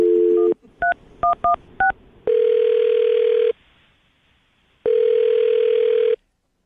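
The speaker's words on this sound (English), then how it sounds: "I'm going to dial his phone number." A telephone call is placed from a computer: a steady dial tone, a quick series of keypad dialing beeps, then two long ringback tones separated by a silent gap.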